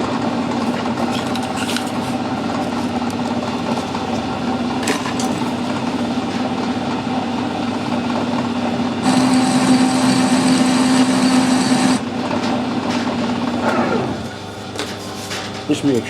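Metal lathe fitted with a 4-jaw chuck runs steadily while a workpiece is parted off, a sustained mechanical hum with a brief higher-pitched whine in the middle before the cut slows and the machine quiets toward the end.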